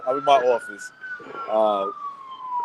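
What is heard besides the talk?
police sirens in Manhattan street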